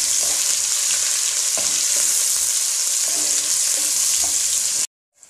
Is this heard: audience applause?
no